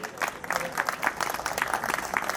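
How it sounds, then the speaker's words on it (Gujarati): An audience at a Jain Upadhan Tap ceremony claps to welcome committee members onto the stage, a brief burst of scattered, moderately loud applause. "મુકેશભાઈ, દોસ્તો તાળીઓથી વધાવો એમને."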